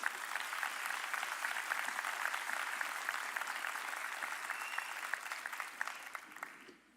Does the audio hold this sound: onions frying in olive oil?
no